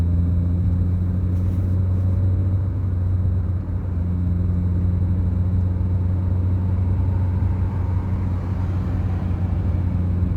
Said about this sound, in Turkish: 3'e attık hızlanalım